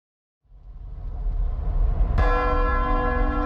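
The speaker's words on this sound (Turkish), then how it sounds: "Çan gürültüsü yankılı biçimde çalıyor." A church bell in a video game rings loudly with a long, echoing resonance, building over a low rumble and sustaining its ringing tones to the end.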